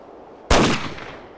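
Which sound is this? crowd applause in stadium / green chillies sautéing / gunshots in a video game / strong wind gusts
gunshots in a video game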